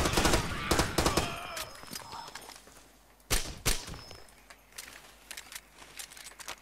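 Gunfire in the jungle shooter Far Cry 2: dense bursts of rapid shots up front, then two sharp, loud cracks midway, followed by scattered lighter pops and impacts trailing off.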